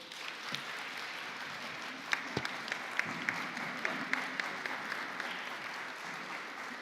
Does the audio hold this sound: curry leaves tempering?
no